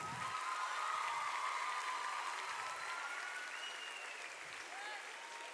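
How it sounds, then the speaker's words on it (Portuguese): Sustained applause from a large church congregation fills the space, a dense wash of many hands clapping at steady loudness throughout. "Aplaude mais, até o povo chegar aí."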